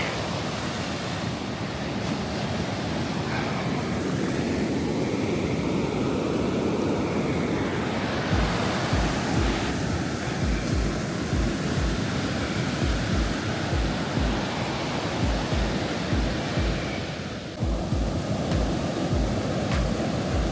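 Ocean surf rolling onto the sand at Jalama Beach, a steady loud wash of breaking waves with gusty wind noise on the microphone and no voices.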